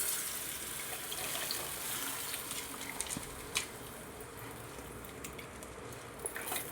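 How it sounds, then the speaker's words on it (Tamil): Dissolved tamarind water is poured into a simmering home-style fish curry, a soft continuous splash and gurgle over the pot's faint sizzle and bubbling, heard close with small clinks near the end. "புளி தண்ணி எடுத்து ஊற்றியாச்சு"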